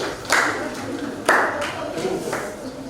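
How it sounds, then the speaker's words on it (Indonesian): Classroom applause for a student group, a few loud bursts of clapping at about one-second intervals amid the murmur of a room, with voices talking underneath. "Tepuk tangan untuk kelompok 4."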